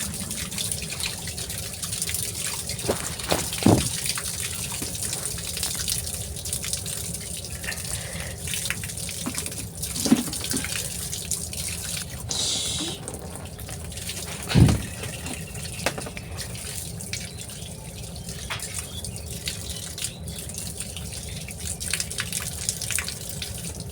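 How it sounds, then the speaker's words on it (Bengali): Big freshwater fish are washed by hand in water, with continuous splashing and sloshing and a few sharper knocks and splashes, close by and with no one talking. "মাছগুলো ধুয়ে পরিষ্কার করে নিচ্ছি।"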